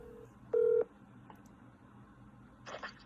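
Telephone touch-tone dialing on a phone call sounds as a short beep followed by a longer, louder dial tone, then a faint click and a brief burst of higher tones, over a quiet line with no talking.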